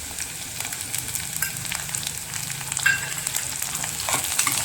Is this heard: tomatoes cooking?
yes